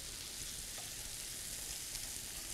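Truffle slices sizzling in a hot pan as they are flipped, a steady soft hiss of frying, faint and even throughout with no voices.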